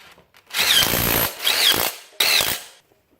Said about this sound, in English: Even though I use my impact, I still like to go back with a socket and just make sure that they're all snug